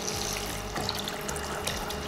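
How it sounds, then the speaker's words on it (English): Water pours steadily from a container over dried beans in a cooking pan, a continuous splashing trickle heard close up and fairly loud, with no talking. "then we're gonna cover with water"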